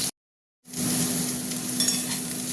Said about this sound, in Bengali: পটলগুলো আগে ভেজে নেবো, তো ভাজা হতে থাক।